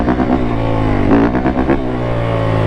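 Yamaha YZ450F four-stroke dirt bike engine revving loudly and close up in first gear, a steady throbbing roar with a brief rise in pitch partway through, no voices over it.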